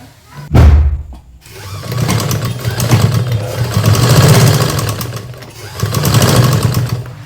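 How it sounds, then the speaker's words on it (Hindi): An electric sewing machine runs in bursts while stitching the placket of an A-line kurti, its motor whirring and buzzing loudly up close, with a sharp start, a brief pause, then longer sustained runs. "अब हम इसको सिलना स्टार्ट करेंगे"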